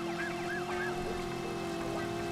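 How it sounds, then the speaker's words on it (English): Police sirens wail steadily through a car chase in the PS1 video game Driver, rising and falling over a constant engine drone with no talking. "Does it help if we got the sirens on?"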